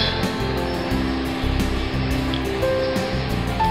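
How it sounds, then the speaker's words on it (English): A handmade gourd rattle is shaken outdoors in quick, even bursts, giving a dense hissing rustle that stays close and loud throughout. "that is a new kind of gourd rattle"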